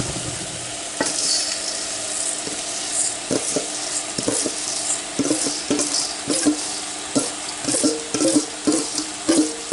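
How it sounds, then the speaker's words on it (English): A spoon stirs rice into a sizzling tomato mixture in a pot, producing repeated scraping strokes and soft clatters over a steady frying hiss, close and clear with no talking. "Let's get it all in there, and then we'll stir to coat."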